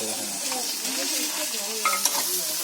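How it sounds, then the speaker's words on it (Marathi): Chopped onion fries and sizzles in a pan in a home kitchen while it is stirred, a close, steady crackle with scraping and a few sharper clinks. "आपला कांदा टाकला गेला त्याच्यात."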